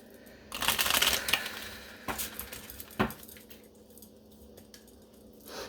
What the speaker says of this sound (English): Oh, I shuffled that wrong.